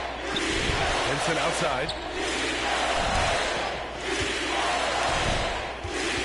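Arena crowd noise from an NBA 2K25 basketball game, a steady loud roar with rhythmic chanting swells and ball bounces, under a commentator's voice.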